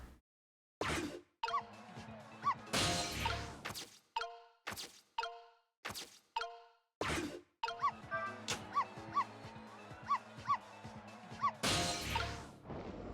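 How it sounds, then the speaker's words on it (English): A small dog in the game Ghost Trick gives a series of short, sharp barks, spaced irregularly between clicks, whooshes and crashes, with a game tune running under them. "can't you bark any louder than that?"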